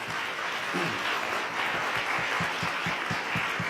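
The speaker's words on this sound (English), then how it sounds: "So give yourselves a round of applause, please." Audience applause for the organizers of a community resistance fair on net neutrality, a steady dense wash of clapping from a crowd indoors, with a rhythmic low thumping running underneath.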